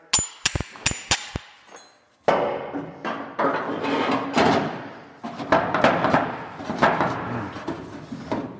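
Several sharp metallic ball peen hammer strikes on a socket ring out in quick succession while mounting a Porsche rear bumper, then a pause, followed by clattering, knocking and handling noises up close.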